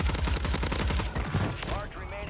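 Rapid bursts of M16 rifle fire with a radiation-themed tracer pack in the shooter game Warzone, loud and dense, shots overlapping for about two seconds before a rising sci-fi whine.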